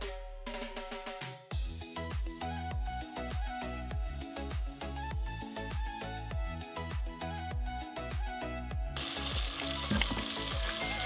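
Vegetables for khichdi fry and sizzle steadily in a pan, a loud continuous crackle with repeated stirring scrapes, close up and with no talking.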